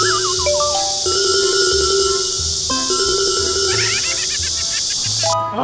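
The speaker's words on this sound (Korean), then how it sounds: "전화를 안 받아 아무도." A telephone rings with nobody answering, its electronic ringtone melody repeating in bright tonal phrases over a steady background hum, with no talking.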